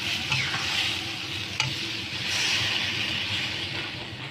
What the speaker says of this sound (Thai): เปิดไฟแรงได้เลยนะคะ แล้วก็ค่อยๆผัดให้มันข้นค่ะ